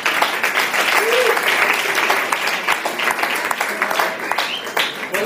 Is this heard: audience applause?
yes